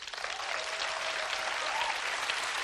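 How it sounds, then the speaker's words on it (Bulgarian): A studio audience at a televised tribute performance claps in a short, even burst of applause, moderately quiet and steady throughout. "аплодисменти"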